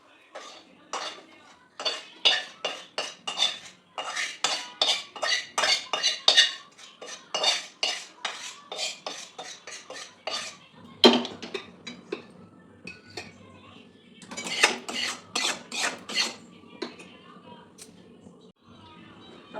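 Roasted wheat flour being scraped out of a pan with a metal spoon in a home kitchen, a long series of rapid metallic scraping strokes in bursts with short pauses, close and clear.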